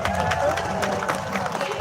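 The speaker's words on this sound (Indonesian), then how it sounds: "Boleh sekali lagi minta tepuk tangannya buat Ade Algi." An audience at a Lampung Barat cultural night applauds a performer, with a dense, steady patter of clapping and crowd noise over a short stretch, and a voice talking over it.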